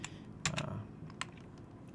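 Keys pressed on a computer keyboard during a Blender tutorial: a handful of soft, scattered clicks over quiet room noise, with no talking.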